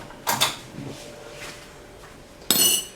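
A cup and a small spoon are handled on a kitchen counter, giving a few light clinks and taps, a soft clatter near the start and a brighter ringing clink near the end, close and fairly quiet, with no talking.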